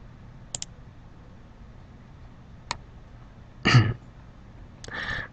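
A computer mouse gives a few sharp, faint clicks, first a quick double click and then single ones, in a quiet room. A louder throat-clearing or cough breaks in near the end.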